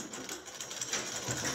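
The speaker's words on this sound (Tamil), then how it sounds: "காலர் பட்டி ஓரமாக தைக்கிறோம்." Sewing machine stitching along the edge of a shirt collar band, a steady close, fast rhythmic whir running throughout the short stretch with no pauses.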